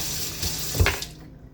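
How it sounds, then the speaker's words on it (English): A kitchen tap runs while hands are rinsed under it, a close splashing stream that swells briefly then cuts off toward the end. "So I'm going to rinse my hands here."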